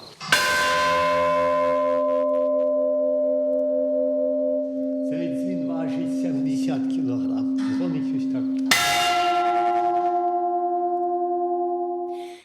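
A 160-kilogram bell at a two-century-old church struck twice, each loud clang ringing into a long, sustained hum that slowly decays, with some rattling and indistinct voices heard between the strikes.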